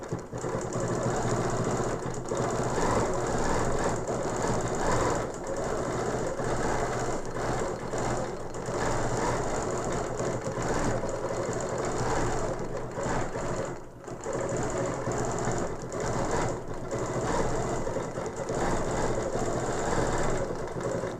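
Sewing machine quilting with a ruler foot, a loud continuous close mechanical whir of the needle running steadily for the whole stretch with only a brief dip, no talk.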